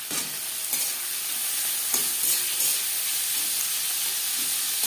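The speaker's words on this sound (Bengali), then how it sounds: "পেঁয়াজ লালচে করে ভেজে নেব।" Plenty of onions frying in oil with three slit green chillies, a loud, continuous sizzling hiss with a few brief spatula scrapes and taps near the start.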